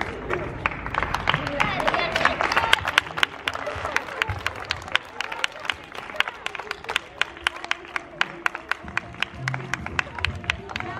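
A school audience claps for a class after a circus-style Sant Jordi performance in Barcelona. Dense crowd applause builds, then thins into scattered individual rhythmic claps, with a voice and crowd chatter mixed in.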